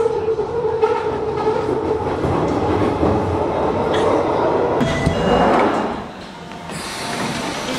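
London Underground metro train riding, a loud steady rumble and rattling wheel noise inside the carriage that swells and then drops as the train slows near the end.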